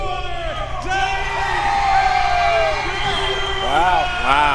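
A mixed-martial-arts arena crowd at AFC 67 reacting to a unanimous judges' decision, a broad steady roar with whoops and whistles rising toward the end, while commentators talk over it.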